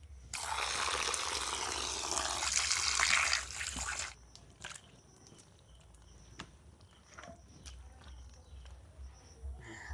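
Raw meat being rinsed under water, a broad rushing, trickling wash for about four seconds that stops abruptly, followed by quieter handling sounds and scattered faint clicks.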